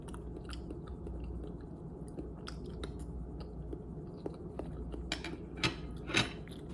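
Close, soft chewing of a cooked potato, with quiet wet mouth sounds and a few sharper clicks and smacks repeating irregularly, alone without talk.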